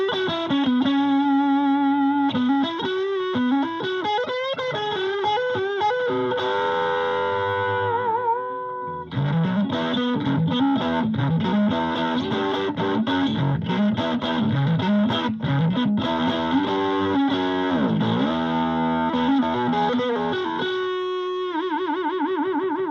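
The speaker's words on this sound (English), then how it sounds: "That has a really nice brown sound, especially on a Stratocaster, if you ask me." An electric guitar, a Stratocaster, plays through a JHS Charlie Brown V3 overdrive pedal, a warm gritty tone running continuously with bends and chords, a brief pause midway.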